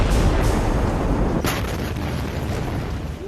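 The Beirut blast tears through a building, throwing ceiling, walls and contents apart in a loud, dense roar of rumbling debris and crashing noise, with a sharp crack partway through before the din slowly thins.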